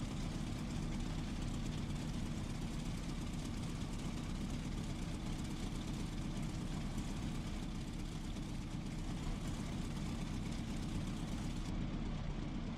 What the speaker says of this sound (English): the Spitfire engine is particularly good